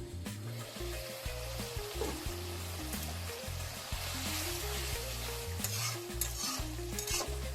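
Shol fish and potato curry simmers and bubbles in a pan, a steady low sizzling and soft bubbling that continues throughout with no talking.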